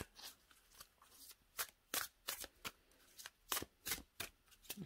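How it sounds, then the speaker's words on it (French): A deck of oracle cards being shuffled by hand, a series of close, crisp riffling bursts in an irregular rhythm, fairly quiet with no talking. "on va le mélanger et on va tirer une carte pour avoir un petit message"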